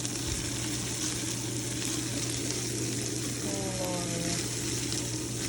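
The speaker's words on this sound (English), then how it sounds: "It's all sizzly, and like I said, it just crumbles up." Crumbled meat sizzles and fries steadily in a pan, a constant close crackle and hiss that continues throughout.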